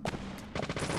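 Rapid bursts of gunfire crack out at a shooting range in the Deadly Premonition video game, a loud cluster near the start and another dense string of shots in the second half, close and sharp.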